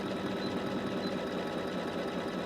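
A sewing machine stitching a satin stitch runs continuously in a fast, even mechanical whir with a rapid steady needle rhythm, close and unbroken throughout.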